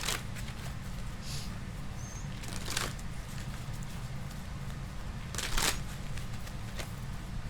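Soft rustling and shuffling of tarot cards over a steady low hum, with a couple of brief brighter bursts of card noise.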